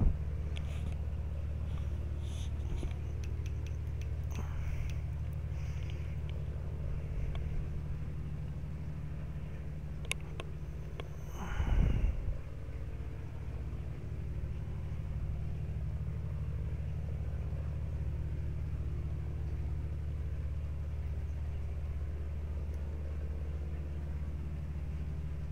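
A plane taxis on the ground in the Minecraft MTS mod, its engine a steady, low droning rumble that holds throughout, with a short louder swell partway through.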